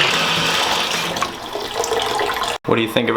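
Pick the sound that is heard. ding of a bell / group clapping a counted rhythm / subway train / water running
water running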